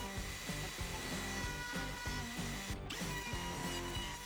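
A wood router rounds over the edges of a handmade piece, giving off a loud, continuous mechanical whine with a rapid, rhythmic grinding pulse and one brief dropout, with no voices.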